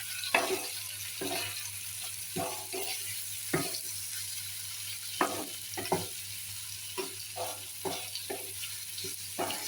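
Bitter gourd (uste) fries in hot oil, with a soft sizzle underneath and a string of irregular, sharp scraping stirs as the pieces are turned again and again.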